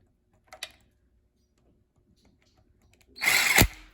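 A power gun drives oil pump bolts on a Buick 3.8 turbo V6: a short burst near the start, then a louder, sustained whir of about half a second near the end, with quiet workshop sounds between and no talking.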